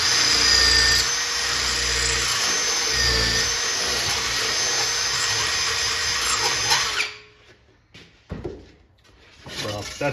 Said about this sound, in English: We could slot this a little bit with the drill bit.